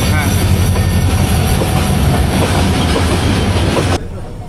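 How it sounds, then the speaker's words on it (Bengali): Freight train rolling past a rural station on the Feni–Chattogram line at night, a loud, continuous close rumble of wheels and wagons with rhythmic rail clatter that cuts off abruptly near the end. "সম্ভবত কোনো ফ্রেইট ট্রেন হতে পারে।"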